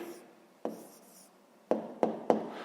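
A pen scratches across paper in short bursts, with several quick taps and strokes close up against a quiet room.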